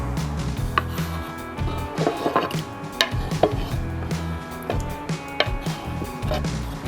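A kitchen knife slices tomatoes into wedges on a cutting board for a fried eggplant salad. Irregular sharp cuts and knocks sound close, over a low background of kitchen noise.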